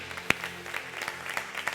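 A church congregation applauding during a Korean service, a short burst of scattered hand claps at moderate level, with no speech over it.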